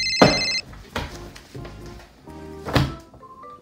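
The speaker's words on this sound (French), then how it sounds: "Téléphone." A telephone ringtone chirps in short electronic bursts between several dull thunks and knocks of household objects, indoors at a home workspace, fairly close and without talk.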